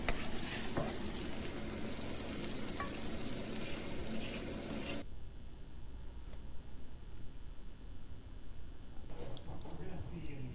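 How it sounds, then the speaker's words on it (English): Onions sautéing in a pan, a loud dense sizzle for the first half that suddenly drops to a quieter, softer frying hiss with faint clinks, heard alone. "I sauteed them for about 2 to 3 minutes"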